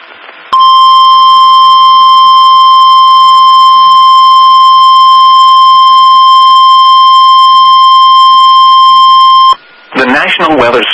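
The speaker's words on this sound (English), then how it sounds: "This has been a test of the NOAA weather radio warning alarm device." A NOAA weather radio warning alarm test tone plays as a loud, steady, continuous electronic tone for about nine seconds, then cuts off abruptly, and a broadcast voice starts speaking right after.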